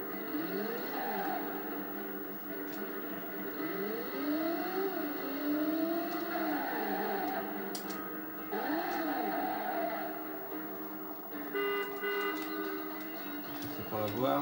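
In the PlayStation driving game Driver, a car's engine rises and falls in repeated revving swoops during a braking test, a steady, close game soundtrack with a whine and brief clicks near the end.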